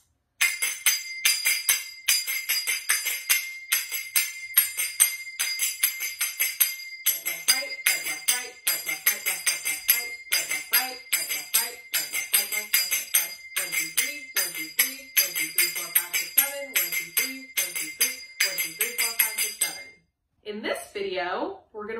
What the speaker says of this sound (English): We're working on our military pattern for our zills or finger cymbals.